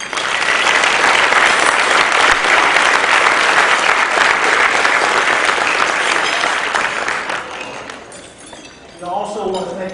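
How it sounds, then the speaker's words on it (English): Loud, dense applause from a large audience at a national convention luncheon for the Tuskegee Airmen fills the room steadily for about eight seconds, then thins out as a voice begins speaking near the end. "And let's give them a round of applause."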